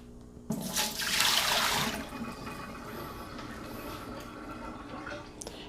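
Water from a new Breville Barista Pro espresso machine cup is poured into a sink, a rushing splash that swells then tapers into a softer trickle and light drips, fairly close with no talk.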